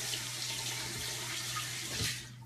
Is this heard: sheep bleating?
no